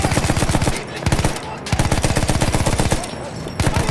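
Rapid sustained machine-gun fire in a video game, loud and close, with dense evenly spaced shots rolling on for several seconds and a few brief pauses between bursts.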